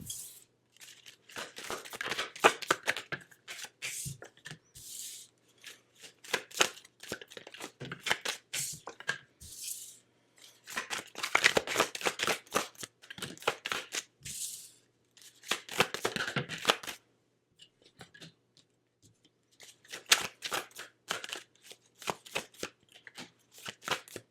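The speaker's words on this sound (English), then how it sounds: "Let me pull some cards here, Aquarius, and let's see what we got." Tarot cards being pulled and shuffled by hand, bursts of close riffling, flicking and slapping card sounds separated by brief quiet gaps, with no talking.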